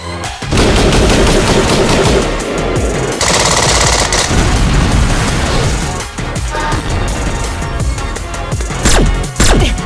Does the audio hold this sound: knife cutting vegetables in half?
no